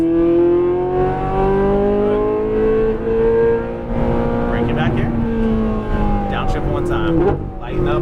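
Ferrari 458 Italia V8 accelerating on a race track, its high engine note climbing and easing through gear changes and throttle lifts, loud and close, with an instructor talking over it throughout.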